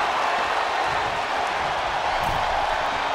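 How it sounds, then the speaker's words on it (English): A capacity crowd in the WWE 2K20 wrestling video game cheers and claps in a dense, steady roar during an eight-man elimination tag match, loud and unbroken throughout. "With every move you make, you hear this capacity crowd following you on that journey."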